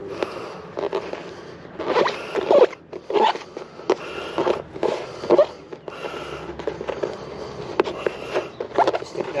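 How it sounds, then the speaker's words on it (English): Double-sided tape being laid down during pond repair work gives a series of short ripping and peeling bursts, close and uneven in rhythm, with brief pauses between pulls. "we're just going to apply some tape, double-sided tape"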